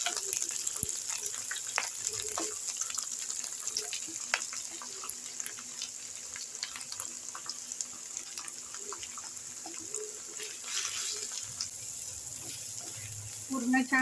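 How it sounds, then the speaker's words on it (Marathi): Masala spices sautéing in oil for a liver fry, heard as a thin, steady hiss and sizzle lasting the whole stretch, with scattered small clicks and a faint murmur of voice in the background. "पूर्ण छान तेलामध्ये हे मसाले छानपैकी परतू द्यायचे"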